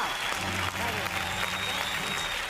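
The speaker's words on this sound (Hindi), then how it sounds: "इस स्टूडियो में बजती हुई तालियां" A studio audience at a Hindi stand-up comedy show applauds in a dense, continuous burst of clapping, heard together with a voice talking over it.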